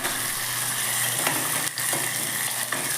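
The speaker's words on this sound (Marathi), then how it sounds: "शेंगदाणे घालायचे आणि हा बटाटाही घालायचा चांगले भाजून घ्यायचे सगळे व्यवस्थित चांगले भाजून घ्यायचे" Peanuts, potato and chillies fry in hot oil with a steady, loud, even sizzle and a couple of faint scraping stirs, no speech.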